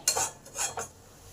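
Fried okra tipped into a pan of cooked masala and stirred, giving a few quick clattering metal scrapes against the pan, close and fairly quiet, with no talk.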